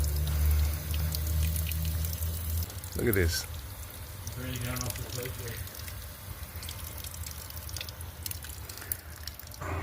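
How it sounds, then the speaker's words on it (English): Water drips and trickles steadily from an unsoldered joint on a water heater pipe, a faint close patter under a low hum, with a brief spoken remark early on. "we got a fat leak right here"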